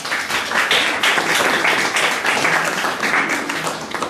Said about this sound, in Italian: quindi facciamo un applauso alla più giovane.